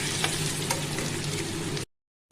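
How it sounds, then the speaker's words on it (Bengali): Potato pieces frying in oil for an aubergine and potato dish, a steady close sizzling hiss with a couple of faint clinks, cutting off abruptly into silence near the end. "আলুটা আগে ভেজে আমি তুলে নেব, তারপর ওই তেলে আমি বেগুন ভাজবো।"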